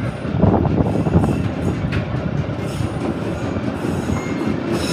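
The 12246 Bangalore–Howrah Duronto Express runs on its rails with a loud, close, continuous rumble, rattling wagons and squealing wheels, heard from near an open door with no talk.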